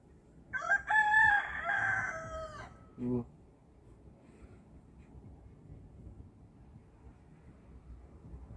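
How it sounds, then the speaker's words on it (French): A rooster crows once loudly and near, a long harmonic cock-a-doodle-doo followed by a short tail note, then only soft outdoor wind and ambience for the rest. "Le coq qui se réveille à 11h52."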